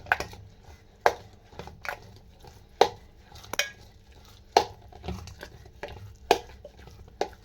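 Idli batter being mixed with idli rava and fresh grated coconut, heard as a thick, wet stirring sound broken by a series of sharp clinks and knocks against the vessel at irregular intervals, close up, with no voices.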